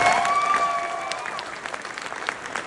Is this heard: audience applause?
yes